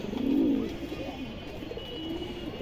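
Pigeons cooing in a loft among fancy breeds such as silver and Budapest birds, a breeding pair giving a loud low coo near the start followed by softer repeated cooing.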